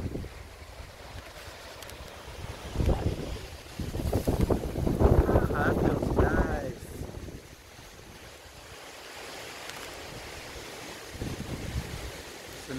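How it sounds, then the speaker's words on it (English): Gusts of wind move through trees ahead of a summer thunderstorm along Utah's Wasatch Front, rising into a louder rushing swell midway before easing to a soft, steady breeze. "Trees are starting to blow a little bit. Getting some wind, finally."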